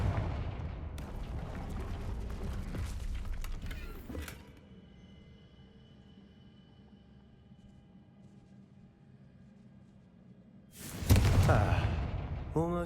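Confringo blasting spell from the game Hogwarts Legacy, with rumbling, crackling blasts at the start and another sharp burst near the end, separated by a quiet ambient stretch.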